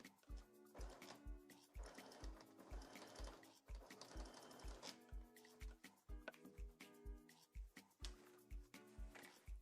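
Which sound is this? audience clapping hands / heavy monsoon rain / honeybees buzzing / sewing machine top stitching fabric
sewing machine top stitching fabric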